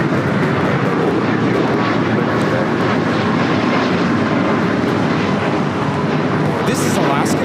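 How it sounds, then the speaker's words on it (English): An Alaska Airlines Boeing 737 MAX 8 takes off from LAX bound for Seattle, its jet engines a loud, continuous broadband roar that holds steady throughout. "This is Alaska Airlines 1317 taking off to Seattle on the MAX 8."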